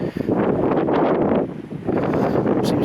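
Wind gusts at Farleigh Hungerford castle, buffeting the microphone with loud, rough low roaring that swells and eases in waves, with no voices.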